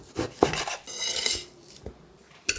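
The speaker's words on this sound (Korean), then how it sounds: "입에서 부드럽게 풀리도록 결 반대 방향으로 한 입에 쏙 들어가게 잘라주고요." A knife slices beef soup meat across the grain on a cutting board, giving a few close, soft scraping and tapping strokes with a sharp knock near the end.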